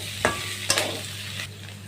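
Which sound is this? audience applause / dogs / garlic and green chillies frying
garlic and green chillies frying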